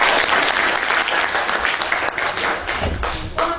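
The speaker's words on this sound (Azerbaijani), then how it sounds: "xanəndəmizə, Maya xanım Cəbrayovana alqışlarınızla" Loud, dense applause from an audience honouring a woman singer at a talent academy masterclass event in Gədəbəy, steady clapping filling the hall without a break.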